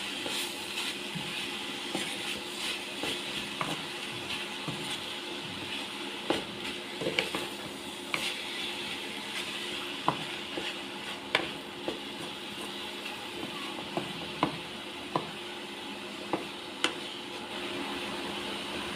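Food frying in a pan is stirred and mixed, a steady sizzle running throughout with scattered utensil scrapes and taps against the pan, moderately close and with no talking.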